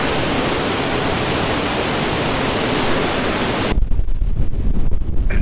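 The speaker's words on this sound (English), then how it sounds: "there's a lot more wind on this side" Wind gusting across the microphone on the starboard deck of a boat heading south through Greenland's Scoresby Sound, a loud steady broadband roar that suddenly cuts to a lower, rumbling buffet near the end.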